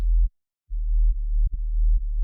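Deep synthesized sub bass patch built in Serum with a Disperser effect at 50%, a loud steady low tone that cuts out briefly, returns, and shifts pitch in a few short steps, with no voice.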